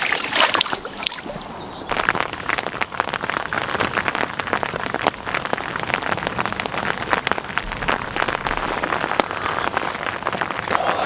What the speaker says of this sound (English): Just that sound of the rain hitting the top of the brolly.